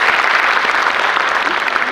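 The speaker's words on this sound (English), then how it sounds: "A round of applause for that" Enthusiastic applause from an audience at a Y20 consultation event, a dense, steady patter of many hands clapping continuously at close range with no pauses.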